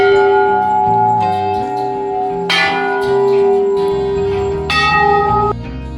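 Hanging metal bells at the Chitai Golu Devta temple in Almora ring out with bright, sustained tones, two sharp strikes standing above a dense, overlapping shimmer of bells, with no talk.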